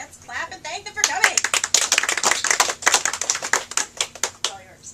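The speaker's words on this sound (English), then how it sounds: "let's clap and thank them for coming" Crisp clapping from a small audience at a stormwater management presentation, welcoming conservation district speakers. It swells quickly into a dense, close burst and then thins out, with a voice speaking over it at the start.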